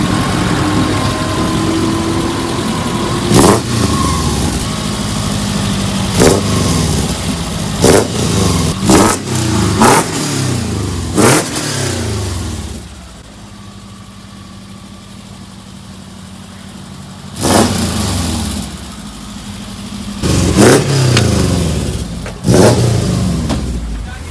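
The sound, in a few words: VW Bus with Subaru engine conversion and custom exhaust driving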